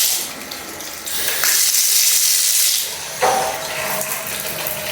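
Water shoots from an outdoor faucet at a cabin, a loud close hissing gush that shifts in strength as the flow changes, with a sharp surge near the end.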